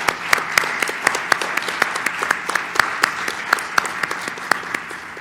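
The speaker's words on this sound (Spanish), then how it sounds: "les vamos a dar un aplauso" A small online-event audience gives the speakers a sparse round of applause, individual sharp claps distinct and irregular over a soft background hum, fairly close and steady for several seconds.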